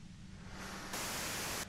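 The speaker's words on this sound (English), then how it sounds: "you can do it through the white noise." Steady hiss of white-noise static in the Disco Elysium video game, a continuous broadband rush that swells louder partway through, briefly dips near the end, then resumes.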